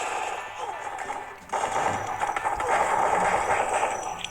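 Bursts of automatic gunfire in a competitive shooting video game, dense and continuous after a brief quieter start, mixed with game effects and talk.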